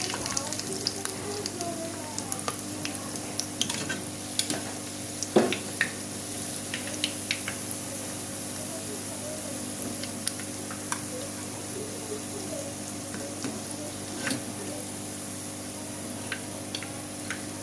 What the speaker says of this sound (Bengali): বড়া কিন্তু আমার ভাজা হয়ে গেছে, সব লাল লাল হয়ে গেছে।